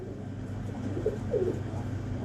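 Soft pigeon coos from a breeding pigeon kept by a pigeon keeper, two short low murmuring calls heard fairly close over steady low background hum.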